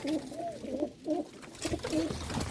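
A pigeon at its nest gives a series of close, repeated rolling coos in a steady rhythm, with brief pauses between phrases and faint rustling beneath.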